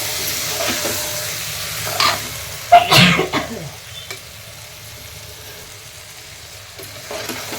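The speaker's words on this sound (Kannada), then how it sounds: "ಅಕ್ಕಿ ಹಾಕಿ ಸ್ವಲ್ಪ ಫ್ರೈ ಮಾಡ್ತೀನಿ" Rice being fried and stirred in oil inside a pressure cooker while making vangi bath, with a steady soft sizzle and a loud burst of scraping and stirring partway through before the sizzle settles again.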